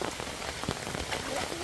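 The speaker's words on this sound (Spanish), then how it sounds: "Porque sí ha llovido bien bonito hoy." Heavy rain pours steadily on a rural village planted with corn fields, a dense, continuous patter of drops striking surfaces close by, with no voices.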